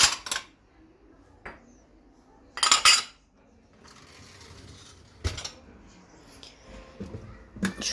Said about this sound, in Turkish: Ben de şu kalan bulaşıkları şöyle vallahi sıkıştırmaya çalışıyorum.